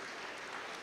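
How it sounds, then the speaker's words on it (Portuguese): Group clapping in a classroom Bible lesson as the men stand, a dense steady patter of many hands filling the short moment without speech. "Palmas!"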